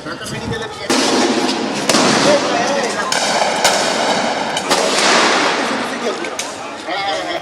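Rifle gunfire aimed at protesters at Chankharpul rings out as sharp, loud cracks echoing over crowd noise, several reports spaced a second or so apart amid shouting voices.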